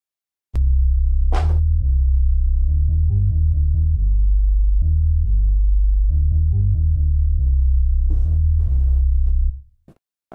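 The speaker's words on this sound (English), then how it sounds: "what we're doing here is using the analog bass" Deep, smooth analog bass synth notes made in FL Studio play a bouncing melodic line with short stepping notes, loud and clean, with a few percussive clicks layered in.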